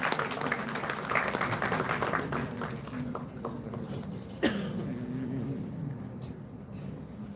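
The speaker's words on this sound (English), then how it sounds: "Let's have a huge round of applause for ma'am as well." An audience at a college event applauds, steady moderate clapping spread through a hall that carries on for several seconds, with a single sharp knock partway through.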